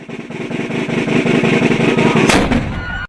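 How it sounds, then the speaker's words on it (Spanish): A cannon shot fired at nine at night, a single heavy boom with a loud sustained rumble lasting a few seconds before cutting off, no talking over it. "Ya son las 9 de la noche y retumba nuestro cañonazo antiimperialista."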